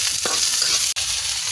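Rice being stir-fried with sesame oil in a pan, a steady close-up sizzle with scraping stirs and a brief clack near the end, no voices.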